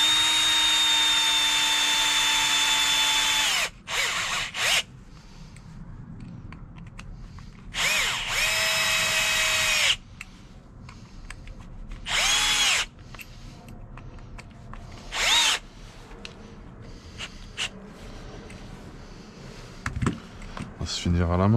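A power screwdriver used to assemble a Hot Bodies e817t 1/8 RC car kit, with several loud whirring bursts of varying length separated by quieter handling clicks, close, and speech heard at times.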